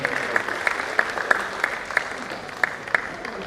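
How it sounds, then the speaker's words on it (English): Scattered clapping from an audience at a medical scientific conference plenary session, with sharp individual claps standing out over a steady wash of applause throughout. "Please a round of applause for him."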